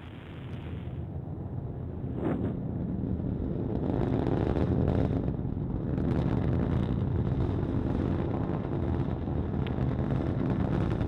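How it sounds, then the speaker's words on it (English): A Delta IV Medium rocket climbs after liftoff with a loud, continuous broadband roar and rumble, steady and sustained throughout, with gusty buffeting like wind on the microphone. "liftoff of the Delta IV rocket"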